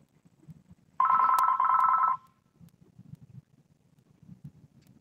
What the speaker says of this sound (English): Well, someone's calling.